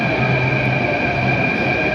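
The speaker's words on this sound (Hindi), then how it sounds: "थोड़ी देर इंतज़ार किया और फिर मेट्रो आ गया।" A Delhi Metro train from Gurugram produces a continuous close rumble with a high, steady electric whine, loud and unbroken throughout.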